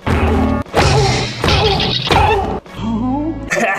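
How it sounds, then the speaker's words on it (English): A cartoonish smash-and-crash effect lands on a croquet mallet strike in a TV mini-series of The Shining, with several loud, close impacts and shattering bursts in quick succession. "Just add a cartoon sound effect to make it complete!"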